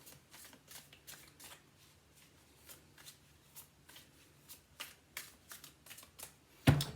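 A deck of tarot cards is shuffled up close, with a series of quick riffling flicks and soft card taps spread evenly across the clip, ending in a sharper knock, with no voice.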